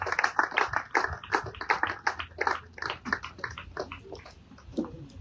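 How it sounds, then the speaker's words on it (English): Audience at a lactation conference clapping hands in welcome for a traditional chief, a dense run of claps through the whole stretch, fairly close and loud, thinning slightly near the end. "Please shall we all clap our hands."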